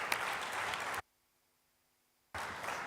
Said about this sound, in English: please join me in thanking our panel and give them a very warm round of applause